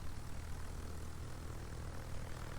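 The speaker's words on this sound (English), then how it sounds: "There's the fighters with 5 of them that'll shoot down 5 planes." Propeller fighter planes droning steadily in a naval strategy video game, a continuous low engine roar with no breaks, fairly quiet and alone.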